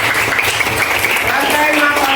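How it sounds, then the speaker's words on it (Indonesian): Classroom applause for a student, a dense steady patter of many hands clapping at once, filling the room evenly throughout. "Ya, jadi tepuk tangan dulu buat Kenzi."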